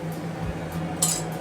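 A metal lid clinks briefly against a dish as it is set over resting dough in a home kitchen, a short close-up clatter under a low steady hum.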